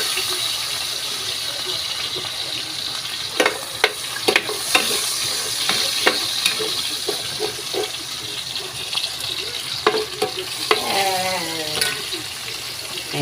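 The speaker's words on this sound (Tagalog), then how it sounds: "Parang dito guys, ang ating igigisa po natin itong bawang sibuyas." Garlic, onion and tomato sautéing in a pan, a steady loud sizzle running throughout with scattered stirring and utensil clinks over it, close up.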